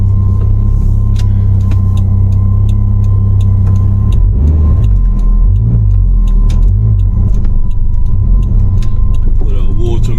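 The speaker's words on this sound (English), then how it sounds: "let's test out the car." A Toyota MR2 Turbo fitted with water methanol injection drives along, its engine a loud, steady low rumble with road noise, swelling as it pulls harder midway through.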